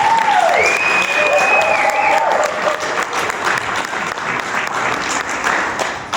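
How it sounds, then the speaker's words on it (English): Sustained audience applause fills a Las Vegas live investment presentation as a speaker is welcomed on stage, loud and steady throughout with a few cheers and whoops rising above the clapping. "please give a major round of applause for the man himself"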